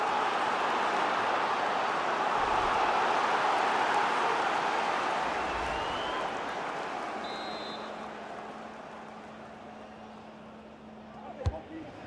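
Stadium crowd noise from a FIFA 22 Premier League match between Watford and Liverpool, a broad steady roar of cheering that gradually fades over several seconds, with commentary talk over it.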